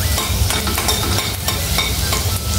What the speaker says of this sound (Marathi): लसूण थोडा शिजू देऊया, परतून घेऊया।